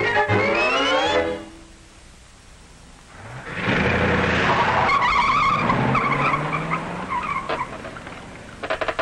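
A 1950 car in Los Angeles squeals its tires in a sharp skid, then after a brief lull the engine roars back with more tire screeching and rumbling, loud and close.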